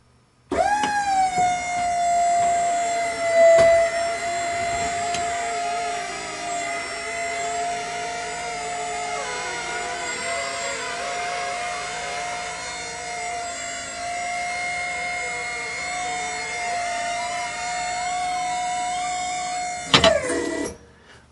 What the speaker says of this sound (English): I'm going to have somebody raise the trailer and you'll be able to see how the hydraulic lift system pushes out